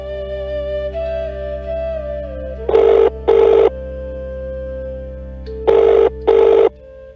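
A telephone rings in two double bursts, a pair of loud electronic trills near the start and another pair a few seconds later, over a steady low hum and soft background tones, with no one talking.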